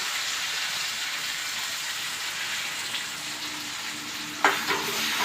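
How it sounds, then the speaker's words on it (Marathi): Coconut-based spice paste for a village-style chicken rassa sautéing in a pan on the gas: an even, close frying hiss that runs throughout, broken near the end by a single clattering knock of the spatula, with no talking. "अजून थोडंसं परतायचं जास्त नाही"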